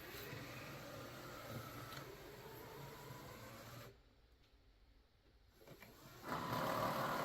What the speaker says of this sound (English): So you can hear it washing the mop there.